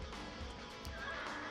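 A horse neighs in the Dynasty Warriors 4 video game, a brief whinny layered over dense, steady battle noise and game sound that fills the whole moment.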